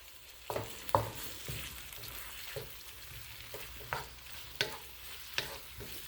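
Vegetables cooking down in a pan for a meatless meal, a quiet low sizzle broken by intermittent scraping and stirring clicks at an irregular pace.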